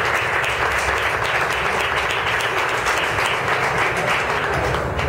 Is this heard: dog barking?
no